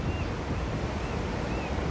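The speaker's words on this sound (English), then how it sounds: "Just took in the sights and the sounds of the ocean." Ocean waves and wind at the beach make a steady, broad rushing roar with wind buffeting the microphone throughout.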